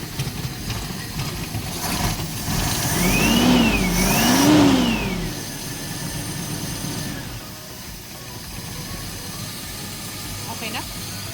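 A Toyota Hi-Ace van with a 1RZ engine and a carburetor problem starts, then revs up and down twice in smooth swells before settling to a steady idle, loud and close, with occasional voices nearby.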